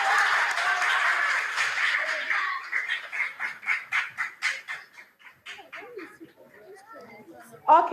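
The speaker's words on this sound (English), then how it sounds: "A round of applause for Oklu as Jeremy comes on board." Brief applause for a contestant at a school quiz competition, a few seconds of dense clapping that thins into separate rhythmic claps, with voices and scattered noises following.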